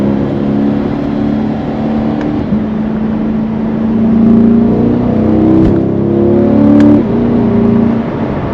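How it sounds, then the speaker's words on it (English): Engine of a 2022 Corvette 3LT droning steadily from inside the car, its pitch climbing and dropping through a series of downshifts with brief rev blips, loud and continuous with no talking. "Oh, listen to those downshifts."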